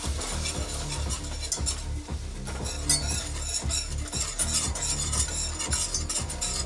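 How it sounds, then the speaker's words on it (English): Milk or cream being whisked into a garlicky Alfredo-style white pizza sauce, a busy run of quick clinking utensil strokes against the pan over a soft simmering hiss, steady and close throughout. "And whisk her up."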